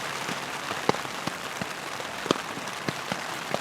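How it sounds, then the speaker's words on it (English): Heavy rain drums on a new Alps Mountaineering Lynx tent at night, a dense steady patter broken by sharper close drop hits, with no talk. "it's raining out pretty good tonight."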